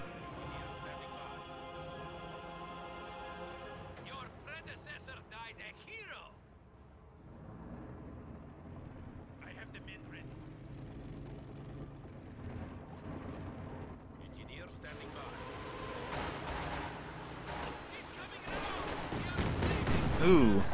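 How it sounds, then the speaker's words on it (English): Concentrated artillery barrage in a WWII strategy game, loud rumbling explosions building toward the end and peaking in a dense final roar beneath continuous commentary. "was that a concentrator barrage?"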